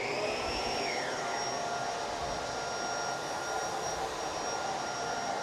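A Bissell Pet Hair Eraser vacuum runs steadily across a hard floor, a loud continuous motor whine with a high tonal hum and a brief pitch sweep near the start, no talking.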